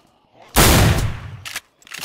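A single loud gunshot in the video game DayZ, a sharp close blast with a decaying tail, followed by two short softer bursts.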